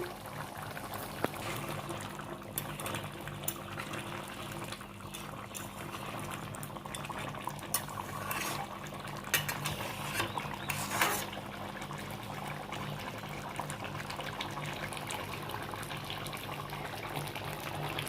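Crab curry bubbles at a steady boil in a cooking pot, a continuous close hiss and gurgle with faint metallic ticks, sustained and even throughout.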